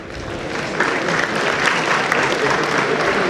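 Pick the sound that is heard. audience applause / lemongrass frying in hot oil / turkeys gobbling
audience applause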